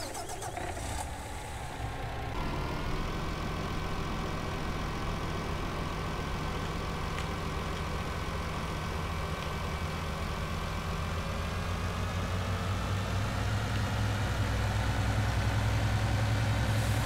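A modded tractor engine in Farming Simulator 19 cranks and starts, then settles into a steady, loud, close idle hum that holds for the rest of the stretch.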